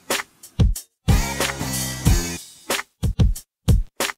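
Drums soloed through an 8-bit Bitcrusher effect in Unity: a loud, gritty lo-fi beat of separate crunchy hits broken by a sustained crushed, harmonic passage, with no voices.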